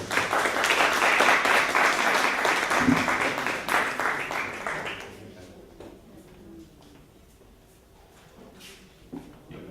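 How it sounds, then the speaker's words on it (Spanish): A conference audience applauds a guest speaker with dense clapping for about five seconds, then it fades to scattered claps, rustling and small knocks in a quieter room. "Un aplauso, por favor, para usted."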